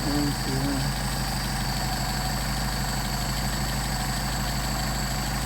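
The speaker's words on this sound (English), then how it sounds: "screw it into the engine stumbles, screw it out to the engine stumbles, and get the midpoint where the engine runs the best" A Mercedes 190SL engine on Solex 44PHH carburetors idles steadily and close by, a continuous low rumble with a faint brief voice near the start.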